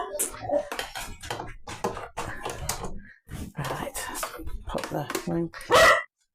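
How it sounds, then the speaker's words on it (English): A neighbour's dog barks, howls and yips repeatedly in quick bursts nearby, with a voice speaking over and between the barks. "I can hear next door's dog howling"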